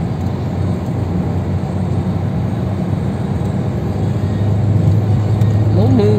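A car drives along a road through olive-grove country in Jaén province, Andalusia, with a steady, close engine and tyre rumble that holds even throughout and swells slightly toward the end.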